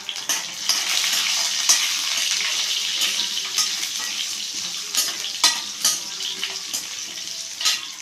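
Loud, close sautéing in a pan while making plantain kola balls, a dense crackling sizzle broken by repeated stirring scrapes and taps, with no talk.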